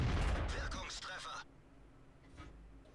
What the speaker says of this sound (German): Aber der schießt aber dafür auf meine Leute.